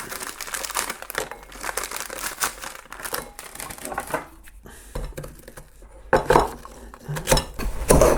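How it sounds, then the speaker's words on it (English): Sharp, irregular crunching and cracking of hard ginger nut biscuits being crushed close up, with bursts of clattering and rustling and a brief quieter pause midway. "we need to crush my ginger nuts first"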